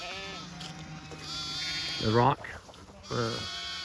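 Sheep bleating in a spring lambing pasture, two loud nearby bleats with other faint distant bleats and birdsong behind, and someone speaking briefly.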